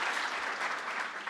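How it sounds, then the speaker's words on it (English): Sustained applause from a gala crowd in San Antonio, a steady dense wash of clapping at moderate volume with no pauses. "Let us give MALDEF another round of applause."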